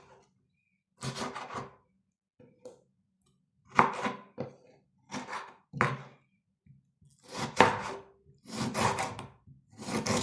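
A kitchen knife cuts through lemon or garlic, catching on tough seeds. Several dull cutting bursts come at uneven intervals in a quiet room.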